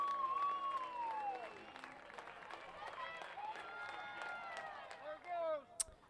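A crowd at a UNCW college baseball game cheers and applauds after a home run, the clapping and shouting fairly faint and mixed under a voice talking.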